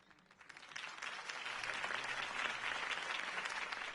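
A crowd in Batman: The Telltale Series breaks into applause that quickly builds and holds steady, a dense patter of clapping heard at a moderate distance.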